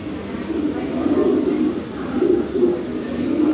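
Domestic pigeons of a high-quality breed cooing steadily in a loft setting, their low soft calls continuous across the moment and mixed with faint background talk.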